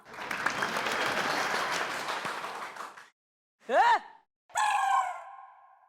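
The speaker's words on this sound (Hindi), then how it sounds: "अरे बजाओ ना तालियां।" Enthusiastic clapping from a group for about three seconds, then it stops abruptly, followed by two short expressive vocal exclamations.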